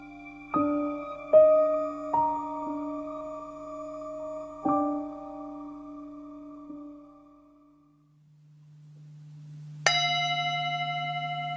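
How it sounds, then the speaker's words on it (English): A wake-up gong rings out in the dark at a retreat, several ringing metallic strikes with long humming decays, then a lone bright strike after a low droning pause. "At 6 a.m., while it's still pitch dark outside, the wake-up gong is rung."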